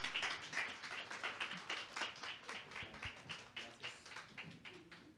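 Applause from a small audience at a public parks project presentation, faint and thin with individual claps clearly separable in an uneven, fading patter.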